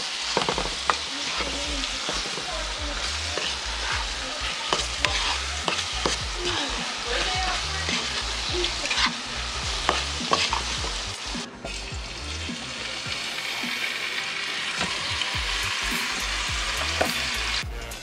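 Apples being stirred in a pan of bubbling, sizzling syrup, with a steady hiss under repeated scraping and stirring strokes that carry on throughout, close up and with no talking.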